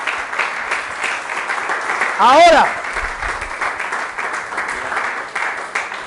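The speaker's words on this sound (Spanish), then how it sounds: "Dame un aplauso al Señor, por favor, en el nombre de Jesús." A church congregation claps in praise during a Spanish-language sermon. Applause fills the room behind the preacher's voice, and a brief rising electronic sweep cuts through midway.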